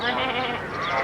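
A noisy goat bleats on a family trip to a farm, giving one rough, continuous cry at close range that fills the short moment.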